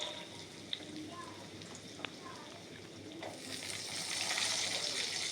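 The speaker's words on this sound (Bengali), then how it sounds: "আলুগুলো আগে তেলেতে ছেড়ে একটু হালকা লাল লাল করে ভেজে নিতে" Cut potatoes frying in hot oil with whole cumin, a steady close sizzle with a few sharp clinks of a utensil, the sizzling swelling louder toward the end.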